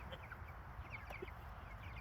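A Brahma hen clucks softly on a farm, with a few faint, scattered clucks over a low background rumble and no talking.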